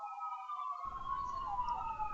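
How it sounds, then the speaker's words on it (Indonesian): Wailing siren of an emergency vehicle, most likely an ambulance, passing outside, steady and moderately loud throughout, with an extra higher tone joining partway through. "Oh, sebentar ada suara Itu polisi. polisi atau ambulan, Bu?"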